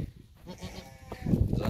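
Dairy goats penned on a farm for sale bleat in short calls close by, a louder burst near the end, while someone talks over them.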